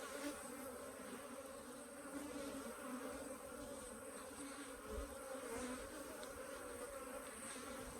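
Dense, steady buzzing of many honey bees from a laying-worker colony swarming close around a hive, a continuous humming drone with no talking.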